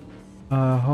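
A car accelerating in Cyberpunk 2077, an engine note that rises sharply halfway through and holds loud and close, with a strong steady tone and no clear skid.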